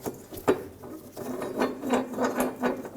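Fuel tank strap bolts being run in on a 2013-2022 Chevrolet Trax with a 1.4L four-cylinder: close, repeated ratcheting strokes, each a quick burst of clicks in a steady rhythm, with no talking.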